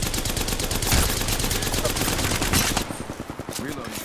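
Rapid automatic gunfire from Apex Legends, a dense sustained burst of shots that stops near the end, leaving a few sparser trailing pops and quieter game sounds.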